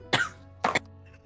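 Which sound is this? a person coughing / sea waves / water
a person coughing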